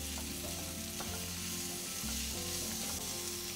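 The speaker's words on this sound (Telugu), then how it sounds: "ఆ పచ్చి వాసన పోయేంత వరకు మంచిగా ఫ్రై అవ్వాలి పన్నీర్" Paneer frying in a hot pan for chilli paneer, a loud, dense, continuous sizzle with stirring scrapes throughout, close up and with no talking.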